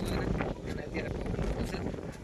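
Gusty wind on a dark, rainy evening outdoors, roaring steadily against the microphone as a broad, continuous rush with slight surges and no pauses.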